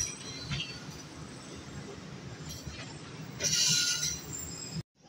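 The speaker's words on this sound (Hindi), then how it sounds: "आपके सामने रहमान बाब एक्सप्रेस 48 डाउन पास हो रही है थ्रू" The Rehman Baba Express rolls through Dina railway station past a stopped train, making a steady rumble and clatter, with a sharp metallic wheel squeal swelling midway before the sound cuts off abruptly.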